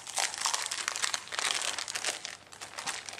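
Crinkly plastic packaging of a Fancy Pants Paislee and Petals scrapbooking paper kit being opened up close, a continuous busy crackling and rustling for the whole stretch with no talking.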